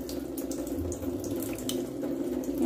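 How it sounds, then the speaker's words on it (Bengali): Tap water runs steadily into a sink while a magur catfish is washed and cleaned, a continuous close splashing rush with small clatters, no talking. "মাছটা ধুয়ে পরিষ্কার করে নিই।"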